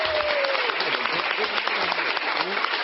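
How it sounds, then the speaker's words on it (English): An applause sound effect fills the whole stretch with dense, even clapping at a loud, constant level, with a voice faintly present underneath. "We gotta get applause for that."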